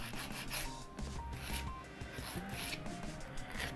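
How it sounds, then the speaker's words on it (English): A regular nail file rasps back and forth against the edges of full-coverage gel nail tips, shaping a medium coffin length with steady, soft, close scraping strokes and no talking. "with a regular file I like to sharpen my edges"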